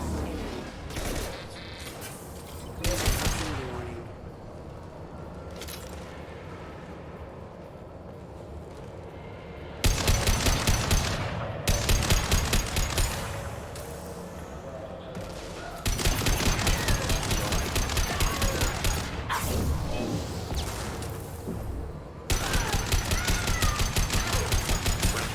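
Shootout gunfire in a video game, repeated loud sustained volleys of automatic fire in several long bursts separated by brief quieter gaps, with a few sharp single shots early on.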